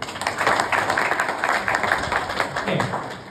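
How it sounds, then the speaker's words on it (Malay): Audience clapping at a product talk, a brisk burst of many hands applauding together, fairly close, with voices mixed in beneath. "Boleh tak bagi satu tepukan untuk e-spring?"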